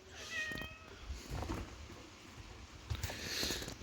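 A cat gives a few soft, fairly faint meows over a low rumbling background, with light rustling between the calls.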